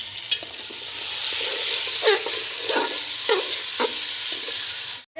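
Chicken pieces fry for biryani with an even hiss, marked by several distinct stirring scrapes, before the sound cuts off abruptly at the end.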